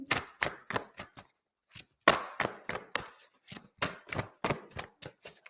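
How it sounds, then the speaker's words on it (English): Cards being shuffled in quick riffling bursts, a series of sharp rapid flutters separated by brief pauses, close and fairly loud. "I'm just going to shuffle some cards for you"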